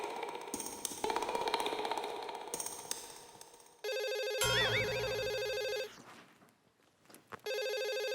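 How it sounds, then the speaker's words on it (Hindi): A telephone rings in a sitcom scene, its electronic ringtone chiming loudly and repeatedly in sustained bursts with a short pause between them, following some earlier background clatter. "नहीं, ये जरूर जेठालाल फोन कर रहा होगा, उठाता ही नहीं हूँ।"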